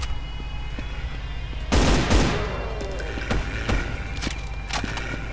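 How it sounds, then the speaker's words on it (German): Loud, dense bursts of in-game gunfire in Brutal Doom 2018 on FreeDoom under GZDoom, map E4M1 Maintenance Area: a heavy volley near the start, then scattered sharper shots and clatter over a steady background hum. "Hier wird scharf geschossen."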